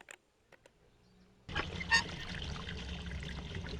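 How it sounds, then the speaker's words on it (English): Water rushing in after a valve is placed on a red switch in the video game Hello Neighbor Act 2, starting abruptly partway through as a steady, loud pouring flow after near silence with a few faint clicks. "That's when the water comes in."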